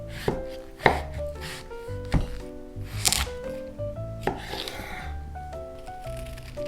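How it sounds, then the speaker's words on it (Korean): Cucumber, onion and cabbage being chopped into bite-size pieces with a knife on a cutting board, a run of crisp, uneven thuds and slices up close, no voices. "가장 먼저 오이, 양파, 양배추를 한 입 크기로 잘라주세요."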